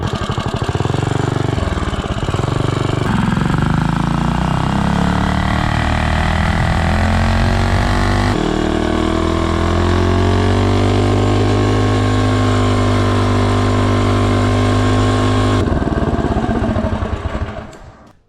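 A Mega Moto 80/105 mini bike engine revs up loud and close as the bike accelerates from 0 to 30, the pitch climbing steadily through a gear change before the throttle cuts off at the end.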